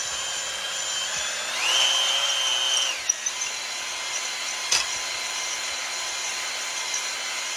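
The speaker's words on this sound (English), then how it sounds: "You hone this cylinder." A power drill whirs while honing a cylinder of a turbocharged 1.6 Miata engine, spinning up briefly with a rising whine, then running on as a steady mid-loud hum with a couple of sharp clicks.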